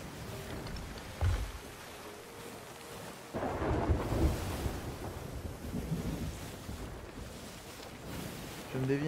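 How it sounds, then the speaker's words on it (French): Stormy sea in the pirate game Sea of Thieves: rolling thunder, heavy rain and wind-driven waves surging around a ship, with a sharp low thunder crack early and a louder swell of storm noise midway; someone talks over it at times. "Là, on est en plein dans la tempête."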